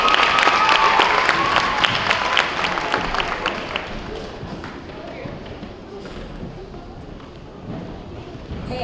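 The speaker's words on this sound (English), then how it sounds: "Let's give these two young ladies a round of applause." Audience applause at a school awards ceremony for third and fourth graders: loud, dense clapping at first that thins and fades over several seconds, with murmuring voices beneath.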